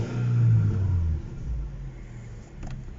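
A warm Peugeot 406 coupé with a 2-litre petrol engine at 250,000 km, running with a low rumbling idle that swells briefly then settles, heard close up without talk.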